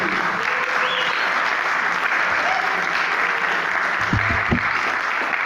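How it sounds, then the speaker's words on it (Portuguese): A church congregation applauds steadily throughout at a Pentecost service, dense and loud clapping that fills the room, with a couple of low thumps near the end. "Vamos aplaudir a palavra do Senhor."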